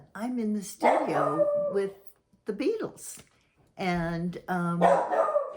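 A dog barks and whimpers in a home recording setting, with yips and whines mixed in among a person's talk, fairly close and in separate bursts.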